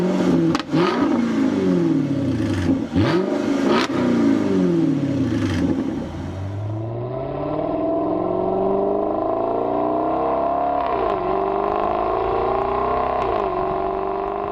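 A Jaguar XKR-S GT engine revs hard and loud up close, climbing through several sweeping rises with sharp gear-change dips, then settling into a steady, lower, droning pull with a couple of brief blips.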